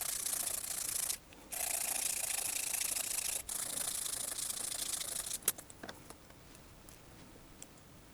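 A LEGO Technic pin being filed and sanded down by hand, a steady close scratchy rasping that stops briefly, then gives way to lighter scattered scraping strokes and small ticks.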